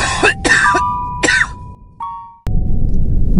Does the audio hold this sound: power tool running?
no